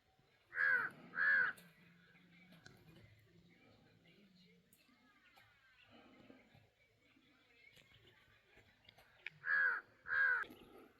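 A jungle crow cawing in the Vattakachchi countryside: two loud, harsh caws at the start and another pair near the end, with quiet ambient sounds in between.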